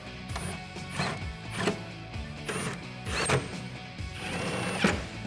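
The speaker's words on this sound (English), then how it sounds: "grab your T30 Torx and tighten it down" A T30 Torx driver tightens bolts while a BAKFlip FiberMax tri-fold tonneau cover is fitted on a 2016–2019 Toyota Tacoma. Repeated ratcheting and clicking turns come in close, busy bursts with no talk.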